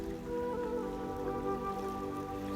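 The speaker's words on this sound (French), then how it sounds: "Tu entends de l'eau qui coule." Calm water trickles and laps gently and continuously, with soft sustained tones over it and no speech.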